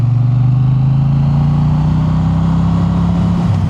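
A Triumph Bonneville motorcycle engine runs loud and close, its steady drone rising slightly in pitch as it revs, then dropping back near the end, with no talk over it.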